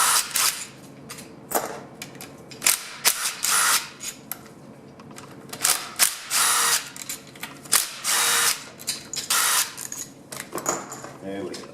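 A power tool spins out the valve body bolts on a 700R4 transmission from a Suburban, giving repeated short whirring bursts with brief pauses between, close and loud, with occasional low talk.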